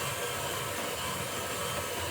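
An electric whisk beats coffee walnut cake batter made with self-raising flour, giving a steady, loud, even whirring drone that holds without a break and with no talk.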